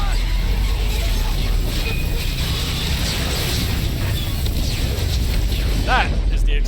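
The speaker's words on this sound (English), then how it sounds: "That is the explosion that ruptures the suit." An explosion ruptures a suit in the video game Mass Effect 2: a loud, sustained roar with deep rumbling and mechanical rattling throughout, rising in a brief burst near the end.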